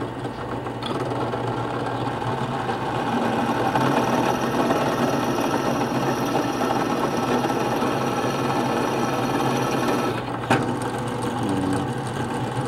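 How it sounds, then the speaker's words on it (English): A power drill whirs steadily for about ten seconds while drilling a hole in a workshop, a continuous high mechanical buzz, then cuts off abruptly near the end. "And then we're going to drill a hole."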